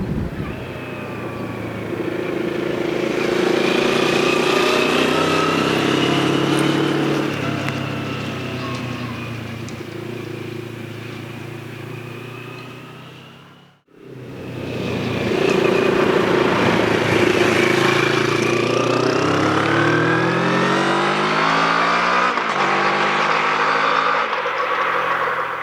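Onboard engine note from a 2022 Moto Morini X-Cape 650 under way on the road: a loud, continuous twin-cylinder drone rising and falling with throttle and gear changes, a brief cut to silence at the midpoint, then pulling strongly again with wind rush.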